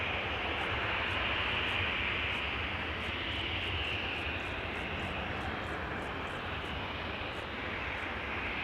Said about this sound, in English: in the distance you can see an Embraer 175 that is going to Dublin, KLM flight 945